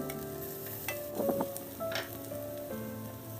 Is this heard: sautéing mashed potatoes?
yes